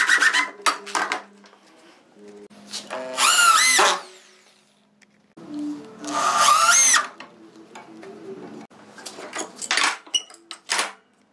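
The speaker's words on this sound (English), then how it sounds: "I can screw it together using my 3-inch exterior screws" A power drill drives 3-inch exterior screws into wood for a homemade raised garden bed, with two long whining bursts that rise in pitch, separated by clattering knocks and handling noises.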